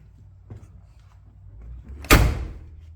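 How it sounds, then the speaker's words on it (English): The door of a Foxbody Mustang fitted with a bolt-in roll cage slams shut once, a loud close thump after some quieter handling and latch noises. "Kind of got to slam that door."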